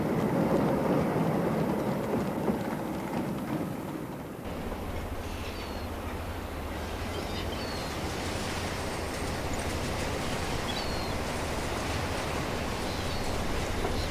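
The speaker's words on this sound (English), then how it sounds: "the early train is signalled into the reception siding and told to go all the way down to the buffer stops" Early train running into a reception siding on the approach to the buffer stops, a broad, continuous rumble and roar that holds steady and close throughout, with a shift in tone partway through and no voices.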